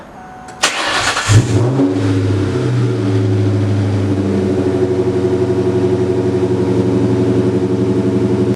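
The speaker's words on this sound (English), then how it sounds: "we'll just go ahead and start it up, let it run for a few minutes" A 2003-2004 Ford Mustang 4.6L V8 cranks briefly and fires up after an oil change, catching with a loud rise before settling into a steady, even idle that continues to the end, close by with no talk.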